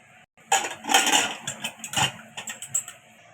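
A metal lid is set onto a pot of lentils cooking with turmeric, giving a short run of close clinks and clattering scrapes that fade into lighter taps.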